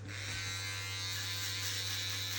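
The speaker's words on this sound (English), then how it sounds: "And go with our shaver" Electric shaver buzzes steadily and close up at a barbershop during a mohawk fade haircut, a constant hum with a bright whine above it and no voices.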